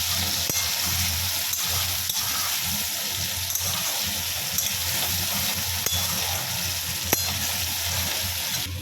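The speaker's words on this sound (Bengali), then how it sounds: "এখন দিয়ে দিচ্ছি আলু। আলু দিয়ে একটু নেড়ে ছেড়ে" Potatoes sizzle steadily in a hot pan for a Bengali fish curry with potato and eggplant, with occasional sharp clicks of a spoon stirring through the constant frying hiss.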